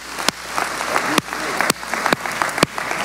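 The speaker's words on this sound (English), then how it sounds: "Let's give them a round of applause." An audience at a motivational talk breaks into steady, dense applause, with a few sharp, louder claps standing out at regular intervals throughout.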